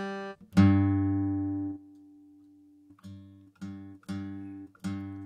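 Ample Guitar T virtual acoustic guitar on its mic 1 setting: a strummed chord rings out and decays, then after a short gap several shorter strummed chords follow in a steady rhythm, close and clear with no talking.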